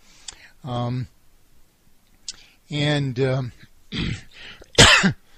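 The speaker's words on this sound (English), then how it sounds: "occasionally I get a cough or two" Several vocal bursts close to the microphone: a rough, voiced throat clearing, then a couple of harsher coughs, separated by short quiet gaps.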